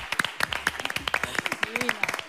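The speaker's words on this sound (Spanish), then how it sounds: "con un fuerte aplauso" Hand clapping from a small studio audience on a Spanish-language talk show, a series of sharp, fairly close claps in an uneven rhythm, with a voice speaking briefly over them.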